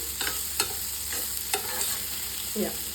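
A spoon stirs brinjal and mango curry in an Andhra-style pan, several soft scraping strokes over a steady sizzling fry, close and alone with no voices.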